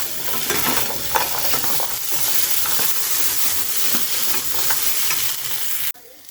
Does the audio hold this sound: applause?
no